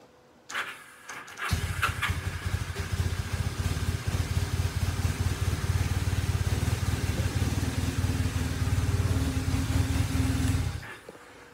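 A Kawasaki KZ750 motorcycle cranks briefly, catches and runs at a steady, loud idle close by for about nine seconds before shutting off, with no talking.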